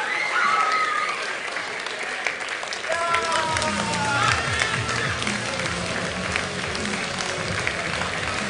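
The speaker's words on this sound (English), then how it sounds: "Let's give them a round of applause." An audience gives sustained, fairly close applause and cheers for the finalists at a Project CARS 2 esports league final, keeping a dense, steady clapping throughout.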